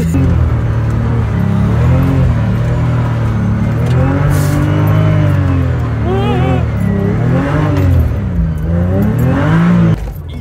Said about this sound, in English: That's the wires on the tire spinning against the wheel wells.